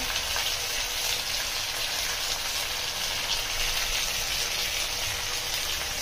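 Onion, ginger, sesame and cashew paste fries in hot oil for a Sanagapappu chicken curry, giving a steady, close, even sizzle with a bright hiss that holds level and unbroken throughout, with no talking.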